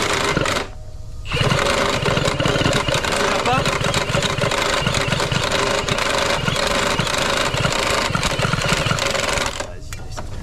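A 70cc-kitted Peugeot 100 Fast moped engine fires and runs with a loud, buzzing two-stroke drone that stays steady for several seconds and then drops away, with voices nearby.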